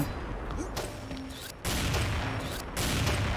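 A Bright Moon 8.5 sniper rifle fires in the shooting game XShot, with a few sharp, booming shots spaced about a second apart, each followed by a lingering broad rumble.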